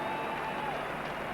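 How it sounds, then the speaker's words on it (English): Applause and crowd noise from Australian cricket players and spectators around the ground at a 1995 West Indies vs Australia test match, a steady broad wash of clapping with no break across the short stretch. "Applause from the Australian players and from the spectators around the ground"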